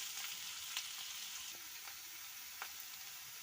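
Bottle gourd pieces fry in a pan for a coconut chutney, a quiet even sizzle with a few faint stirring clicks.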